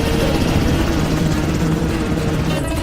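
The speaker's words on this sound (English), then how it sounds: "A Black Hawk helicopter" A Black Hawk helicopter in a film roars loudly overhead with a heavy, constant rotor thrum and engine rumble, dense and close for the whole stretch.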